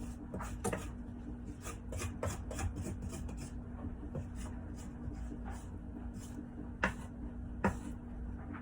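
Repeated short scraping strokes as warm, sticky bread dough for hot rolls is scraped off a surface, a close, quiet rhythmic rasping with a couple of sharper knocks near the end.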